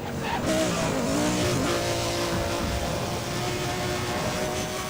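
Racing car engines roar in Need for Speed World, a loud, sustained engine drone with rising pitch as the car accelerates through a turn, with no talk over it.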